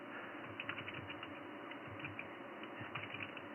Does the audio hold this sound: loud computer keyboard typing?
yes